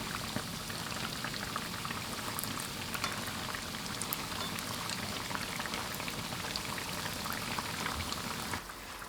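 Small Chinese dough cakes made from flour deep-frying in hot oil, a steady dense crackle and sizzle close by, continuous throughout with no talk.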